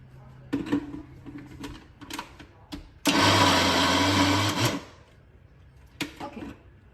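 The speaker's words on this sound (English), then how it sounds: "we're going to be powdering the whole raw cashews in a blender" A blender grinds whole raw cashews into a coarse powder, a loud dense roar running about two seconds amid softer clatter and knocks before and after.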